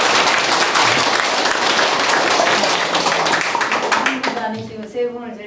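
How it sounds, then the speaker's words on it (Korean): A lecture audience breaks into dense, loud applause that holds steady for about four seconds, then fades into scattered claps as a voice starts speaking. "박수 한번 치고 들어볼까요?"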